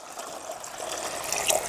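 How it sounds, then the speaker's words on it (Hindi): Water pours from an opened container into a tin box for making gas with petrol, a steady close splashing trickle that grows slightly louder toward the end. "तो ये पानी हमने इसके अंदर डाल दिया"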